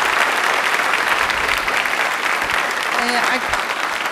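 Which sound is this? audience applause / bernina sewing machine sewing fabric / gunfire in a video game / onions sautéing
audience applause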